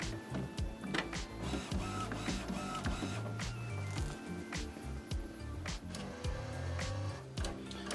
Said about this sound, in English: the machine will start purging the air from the system